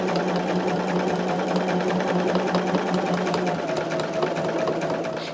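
A sewing machine stitching quilt binding strips together runs steadily and close, producing a continuous fast mechanical whirr with a rapid needle rhythm and a slight slowdown at the end.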